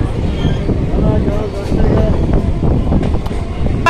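Howrah–Arambagh local train running through Hooghly district, a loud steady rumble of carriages with rattling clicks, heard from inside with people talking over it.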